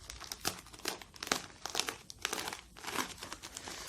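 Plastic packaging around an SJcam SJ6 Legend action camera from AliExpress being cut and pulled open: close, quiet crinkling and crackling in irregular bursts.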